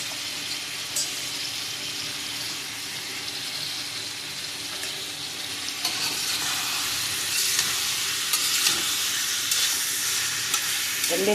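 Ivy gourd fries steadily in a pan, a continuous hissing sizzle that grows slightly louder partway through, with occasional stirring scrapes and no talk.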